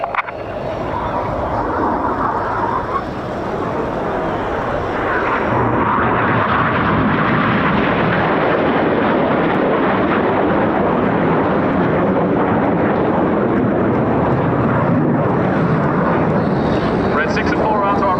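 Red Arrows jets fly at the RAF Cosford air show, a loud continuous roar of jet engines that builds and holds, with a commentator talking over it.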